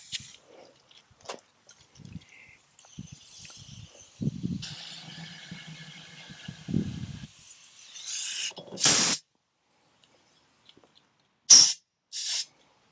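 Starter spray hisses into an old mower engine in short bursts, several sharp loud blasts near the end after quieter rustling and handling noises.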